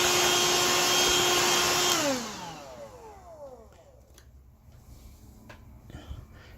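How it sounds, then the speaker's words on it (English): Handheld vacuum cleaner running loud and steady while cleaning the opening of a Kobot RV353 robot vacuum, then switched off so its whine falls away over about a second, leaving faint handling clicks. "you grab your handheld vacuum and vacuum the opening"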